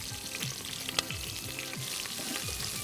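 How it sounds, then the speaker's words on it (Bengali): Onion, green chilies and garlic fry in hot oil as they are stirred, a steady close sizzle with the scrape of the spoon recurring throughout. "রসুন বাদামি এলি আধা কাপ পেঁয়াজ 7-8টা মরিচ দিয়ে বালাগড়ি নাড়ন ফুরিব।"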